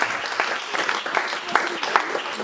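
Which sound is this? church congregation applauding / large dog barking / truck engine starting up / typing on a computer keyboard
church congregation applauding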